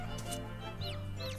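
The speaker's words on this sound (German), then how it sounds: "habe ich hier richtig viele Hühner." Chickens cluck softly in the farming video game Summer in Mara, a few faint, brief clucks and chirps over a low steady background hum.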